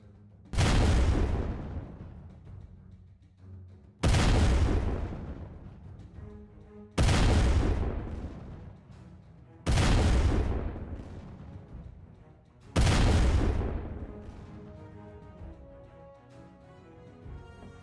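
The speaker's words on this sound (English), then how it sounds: "I was able to put the cannons onto the ship." Ship cannons fire in a Roblox pirate game: five heavy booms spaced about three seconds apart, each a loud close blast that rumbles and decays before the next, with no talk.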